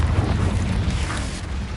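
Confringo blasting spell from Hogwarts Legacy on PS5 detonating as a deep, rumbling explosion that fills the whole short moment, loud and sustained with no talk over it.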